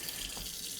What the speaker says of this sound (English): In the kitchen, get some water in.